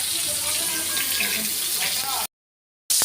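Fish frying in hot oil in a pan on a home kitchen stove gives a steady, dense sizzle for about two seconds, then cuts off abruptly to silence before the sizzle resumes briefly.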